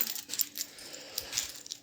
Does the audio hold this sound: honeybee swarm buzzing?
no